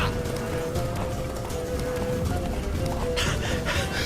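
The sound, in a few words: horse hooves galloping in The Witcher 3 video game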